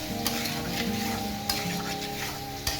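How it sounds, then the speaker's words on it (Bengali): Okra and shrimp being stirred in a pan after salting, a steady sizzle beneath scraping spatula strokes, with a few sharper clicks of utensil against metal. "স্বাদ মতো লবণ দিয়ে বন্ধুরা আরও একটু আমি নাড়াচাড়া করে নিলাম।"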